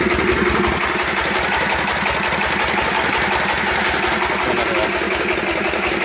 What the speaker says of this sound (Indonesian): oke kita tes ya ya ini ke stasioner ya tapi sudah bisa dipastikan ini bisa bekerja ya stasioner kita coba ya